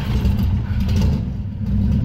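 A high-compression carbureted engine runs steadily, slightly rich after a restart with the ignition cut switched off, giving a continuous loud low rumble for about two seconds with no talk over it.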